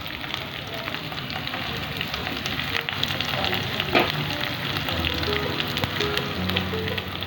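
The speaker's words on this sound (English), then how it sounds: "Now fry this also until it turns light brown." Sliced onions fry with roasted garlic in a pan, giving a continuous crackling sizzle at moderate level with scattered pops and soft stirring throughout.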